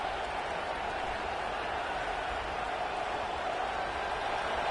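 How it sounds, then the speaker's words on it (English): Crowd noise at a junior varsity football game, a steady, loud, unbroken roar of cheering spectators with no break through the whole stretch. "This crowd bringing the energy and noise early"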